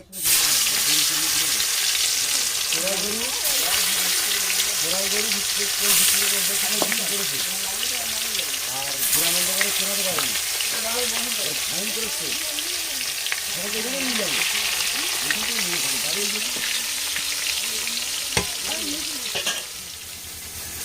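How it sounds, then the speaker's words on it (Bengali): A steady sizzle of bhetki fish frying in hot oil continues throughout, with a voice talking over it for most of the time. "মাছ ভাজা হয়ে গেছে এবার মাছগুলোকে তুলে নেবো"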